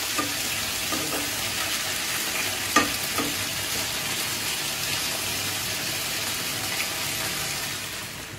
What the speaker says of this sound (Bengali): চিকেনটা একটু হালকা ভাজা করে নেব